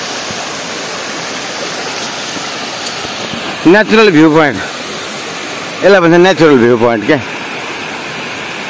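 Steady, loud rushing water from a waterfall at a natural viewpoint in a green village fills the whole scene, with someone talking over it twice.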